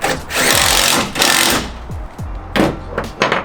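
A power tool drives bolts tight on a Tacoma composite bed stiffener in loud, close whirring bursts that rise and stop abruptly. Short pauses fall between the runs, with small clanks in between.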